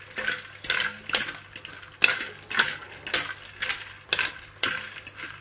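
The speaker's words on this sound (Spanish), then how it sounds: "vamos a mover la carne para que se mezcle con el aceite." Raw steak tartare meat being stirred with oil in a bowl, a utensil scraping and clinking against the dish in a steady repeating rhythm of strokes, close and fairly loud with no talking.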